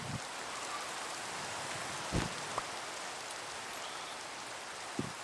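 Steady rain falls in the video game Minecraft, a soft continuous hiss with a few louder drips and splashes standing out, no voices.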